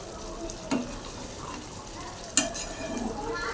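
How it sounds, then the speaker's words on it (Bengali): A spoon stirs spice masala frying in oil in a pan while cooking paneer, potato and tomato curry; steady close sizzle with two sharp scraping clinks of the utensil against the pan. "একটু নেড়ে নিচ্ছি"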